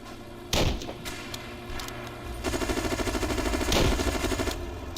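Anti-aircraft guns firing in a World War aircraft game, heard as steady rapid rhythmic bursts of automatic fire with a few heavier thumps, fairly close and continuous throughout.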